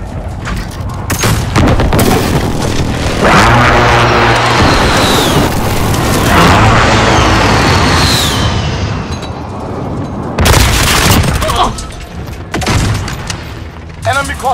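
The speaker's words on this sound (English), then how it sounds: "Enemy precision airstrike, inbound," Precision airstrike explosions in Call of Duty: Modern Warfare team deathmatch, a loud sustained barrage of booms and rumbling blasts with gunfire mixed in, surging again near the end.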